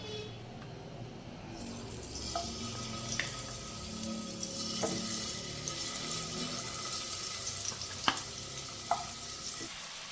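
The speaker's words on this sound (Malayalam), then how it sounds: "ഇനി നമ്മൾ ചെമ്മീൻ ഇതിലേക്ക് ഇട്ട് കൊടുക്കണം" Prawns fry in coconut oil in a pan with a steady sizzle, broken by occasional utensil clinks and scraping stirs, close and moderately quiet throughout.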